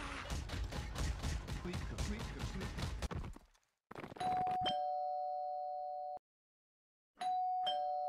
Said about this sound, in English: Alright, doorbell.